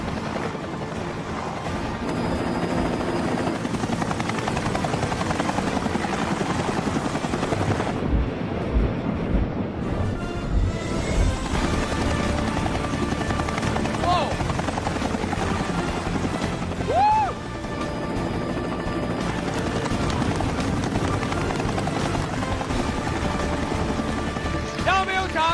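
A helicopter hovers at very low altitude close by for a precision bottle-opening stunt, its rotors producing a loud, steady broadband roar with wind buffeting the microphone, while people talk over it.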